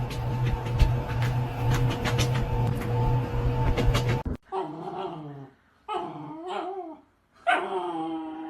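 A dog whimpers in thin, high whines broken by pauses, after a steady mechanical hum and rattling that fill the first half.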